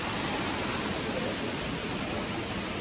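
A waterfall beside the Shiv cave roars as a steady, dense rush of falling water, loud and continuous with no voices.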